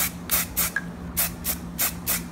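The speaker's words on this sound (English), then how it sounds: "Nothing special about spray paint." Short hissing bursts from a spray paint can repeat in quick pulses, about six sprays in a row, close and fairly soft.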